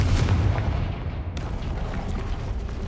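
Fiery Confringo spell blast in the video game Hogwarts Legacy, a loud booming burst with a sharp crack partway through, trailing into sustained rumbling fire and crackle.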